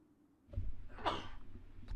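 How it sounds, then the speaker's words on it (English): A single human sneeze bursts out after a short intake of breath, close and fairly loud, with no other voices. "I gotta sneeze."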